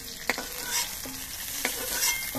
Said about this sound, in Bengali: তবে বাকি পটলগুলো ভেজে নিচ্ছি।